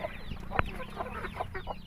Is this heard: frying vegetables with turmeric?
no